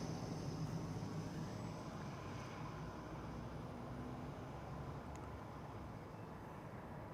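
KLM flight 749 to Bogota rumbles at an airport, a faint, steady, distant engine roar holding evenly throughout, with no voices.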